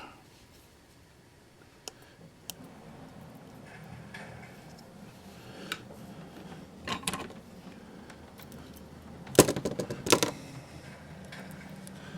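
Tape is handled and pulled during a DCC decoder install in an Atlas GP38 model locomotive: quiet scattered ticks and clicks, then a short burst of crackling, peeling sounds near the end, close and faint.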